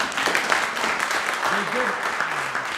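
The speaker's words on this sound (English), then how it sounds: "round of applause for the students before they even start" An audience applauds students at a legislature public forum and meeting, with dense, steady clapping throughout and a few voices rising over it.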